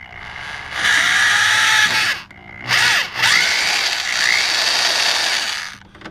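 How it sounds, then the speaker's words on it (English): Power drill boring a hole in a Polaris Slingshot body kit panel, the loud whining motor running in two sustained bursts with a short pause between, pitch shifting as the bit bites. "at the same time you drill"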